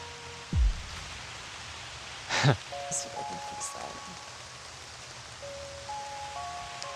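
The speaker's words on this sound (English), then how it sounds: "and it's raining." Light rain patters softly in the background outdoors by a tree, with a few tonal blips and brief rustling noises over the steady wash.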